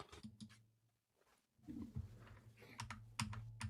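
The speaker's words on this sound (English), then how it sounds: "I'm just typing something here." Fingers tap on a computer keyboard in quick, uneven bursts of clicks, fairly close and quiet, with a pause in the middle and no talking.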